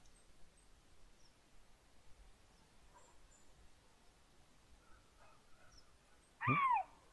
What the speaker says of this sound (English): Oh, and a yelp.